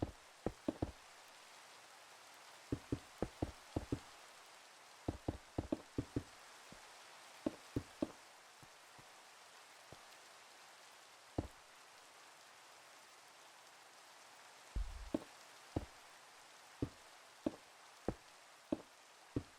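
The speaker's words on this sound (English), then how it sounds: "Rain again. Jeez. Endless today." Rain falls in Minecraft, heard as faint hiss under sharp, scattered knocking taps that come in irregular clusters throughout.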